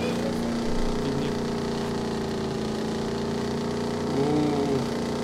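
Boat engine in the video game Goat Simulator, a steady droning motor hum with a few brief swells in pitch, continuous and fairly close, with no talk over it.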